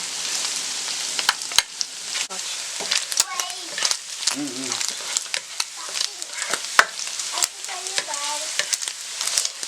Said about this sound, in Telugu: చికెన్ వేసుకొని ఫ్రై చేసుకోవాలి